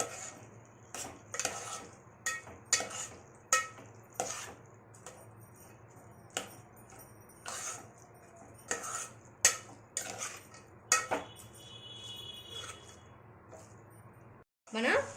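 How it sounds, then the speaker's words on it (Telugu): Rice being stirred together with other ingredients in a pot for curd rice, giving a series of sharp metallic clinks and scrapes of a spoon against the pot at an uneven rhythm, close and moderately loud. "ఇప్పుడు రైస్ని అన్నీ మిక్స్ అయ్యేలాగా కలుపుకోవాలి."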